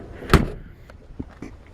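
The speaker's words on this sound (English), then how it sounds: "I don't know if you just noticed how I closed that door, how they sound." The door of a 1966 Ford Mustang fastback, a GT350 clone, shuts with one solid, close thump, followed by a few faint interior clicks and shuffles.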